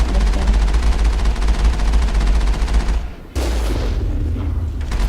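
Missile blasts in the Mass Effect video game: a loud, continuous barrage of booming explosions and rattling gunfire for about three seconds, a brief drop to near silence, then the heavy rumbling bombardment resumes.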